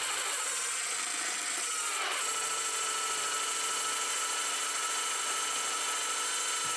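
Drill press boring into a wooden guitar body to clear out the pickup cavities, a steady loud motor whine with broadband cutting noise and a brief surge around two seconds.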